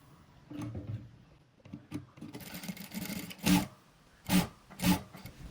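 A domestic sewing machine stitches the back-opening of a saree blouse in short bursts, its needle whirring and clattering in several loud runs separated by pauses, with no talking over it.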